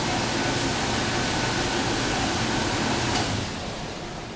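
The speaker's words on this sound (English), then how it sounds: "you can hear the water moving through and being sprayed" Steady broadband rush of water spraying inside a dishwasher during its wash cycle, loud and continuous with no talk, easing slightly toward the end.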